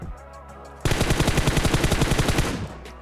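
Automatic rifle fire in PUBG Mobile, a long rapid burst of about two seconds of evenly spaced shots, loud and close, with no talking.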